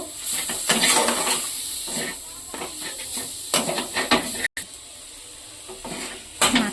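Deboned fish pieces for fish fingers stirred and fried in a pan, giving a steady close sizzle with repeated scraping and clinking of the utensil against the pan.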